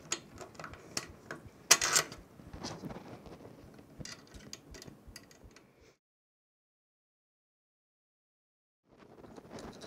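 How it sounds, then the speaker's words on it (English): Screws being fitted back onto a TransPro 3-in-1 mug press make a run of small close clicks and taps for several seconds, then silence before faint handling noise returns. "And I'm just going to attach the screws back on."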